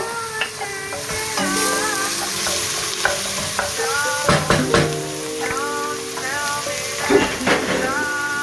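Onions for beef pilau sizzle in hot oil with a loud, continuous crackling hiss, with spoon scrapes and clanks against the pot scattered throughout and no talking.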